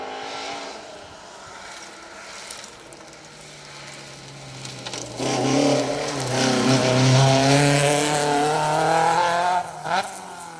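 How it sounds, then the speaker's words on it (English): A rally car engine drones in the distance on a forest stage, then roars louder and closer around the middle, its revs rising and falling as it passes. "What a sight and sound this is."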